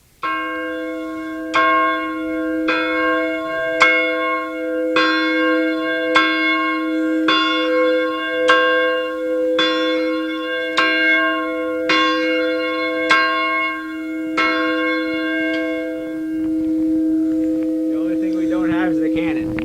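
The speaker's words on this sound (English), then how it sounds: "ring the bell here" A large lighthouse fog bell rings repeatedly at a steady, slow pace during a ceremony at Isle La Motte Lighthouse, each strike ringing out over a deep, sustained humming tone.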